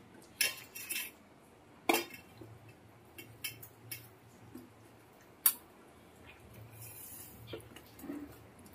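Marinated rohu fish pieces being mixed with a paste in a bowl, giving sparse clinks and scrapes of a spoon against the dish with soft wet squelches between them, close and fairly quiet.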